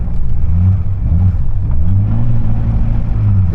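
Ferrari F40 engine revving up on a runway, a loud, close mid-pitched roar rising and falling in repeated surges, with no voices.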